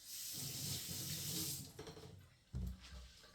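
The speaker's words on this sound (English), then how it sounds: "Of course, we wash our potatoes." Potatoes washed under a running kitchen tap, a steady splash of flowing water that breaks off partway through, followed by a few handling clunks and a short burst of water, close and fairly quiet.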